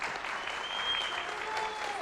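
Audience applause at a youth debate held in a Rio de Janeiro city council chamber, a dense, steady burst of many hands clapping at once, loud and even from start to finish.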